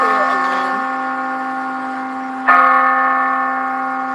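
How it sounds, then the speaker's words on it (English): Phone alarm set to a church bell tone as a prayer reminder, ringing loud and close with two strikes whose sustained tones slowly decay. "That was my alarm to remind me to go pray."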